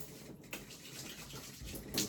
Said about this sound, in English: Now you can start to hear those suds a little more.